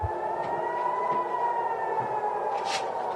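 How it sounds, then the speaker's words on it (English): A sustained air raid siren wails steadily at a distance in Tel Aviv during an Iranian missile barrage, its tone holding level and unbroken for the whole stretch. "Air raid sirens are sounding across Israel's second largest city of Tel Aviv."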